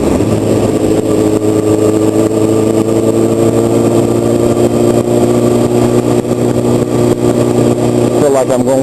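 A sport motorcycle engine drones loud and close while riding, holding a steady throbbing note with wind rush and a shift in pitch near the end.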